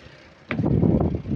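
A CAT 950H wheel loader engine with a hard-starting fault cranks and catches, starting abruptly after a quiet half second and running loud and rough close by.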